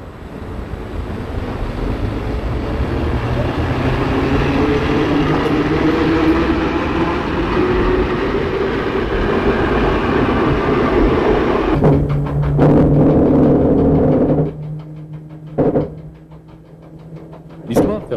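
A train rolling on rails along the Lyon–Geneva line, a loud continuous rumble with wind buffeting that swells and then thins out near the end into sharper rail clatter and a lingering tone.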